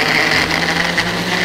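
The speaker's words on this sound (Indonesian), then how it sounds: "langsung kita blender ya." An electric kitchen blender grinds shallots, garlic and salt into a paste, a loud, steady whirring buzz that runs unbroken from start to finish.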